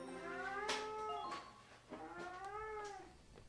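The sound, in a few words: cat meowing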